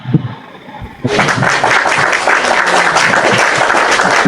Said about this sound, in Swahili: Nipigie makofi.